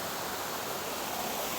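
Water pours over a waterfall and runs through rapids at Little Hawaii, an ignimbrite rock falls, making a dense, steady roar up close with no break and no talking.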